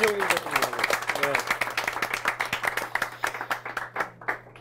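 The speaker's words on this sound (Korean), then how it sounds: "여기 김묘정님, 김성환님, 최지민님 박수 부탁드리겠습니다." Steady applause from an audience, many hands clapping together at a lively even pace, with a low hum beneath.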